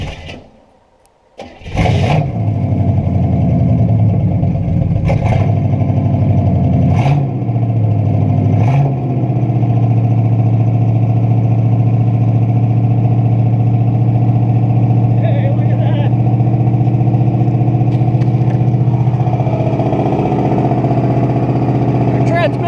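A 1968 Buick Skylark Custom, abandoned since the 1980s, cranks briefly and fires up, then settles into a loud, steady idle with a few revs early on; a person talks over the running engine.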